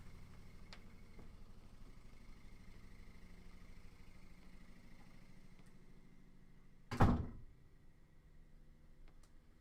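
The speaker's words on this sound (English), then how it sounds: "I'm gonna go shut the door real quick." A door is shut once indoors with a single fairly loud thud, heard over a steady low hum from a running laundry machine.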